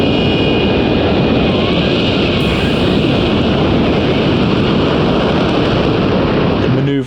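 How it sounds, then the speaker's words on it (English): An F-35 jet hovering at an air show, a loud continuous roar of engine and lift-fan mechanical noise, broad and unbroken throughout, with some wind buffeting and a slight shift near the end. "With the F-35, there's an awful lot of mechanical noises going on in the hover."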